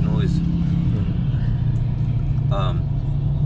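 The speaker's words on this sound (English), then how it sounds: "Let me get away from this truck, man. It's making too much noise." A truck rumbles nearby with a steady low engine drone throughout, while someone talks over it.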